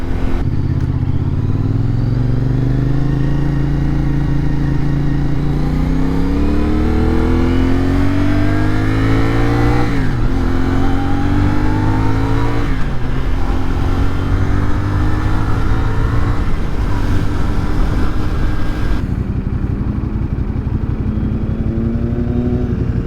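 A CFMoto 450SS motorcycle accelerates hard on the road, its engine revving loudly and climbing steadily through several gear changes in a continuous close-up roar.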